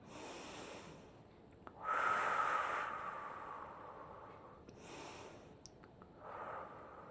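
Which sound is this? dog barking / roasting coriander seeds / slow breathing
slow breathing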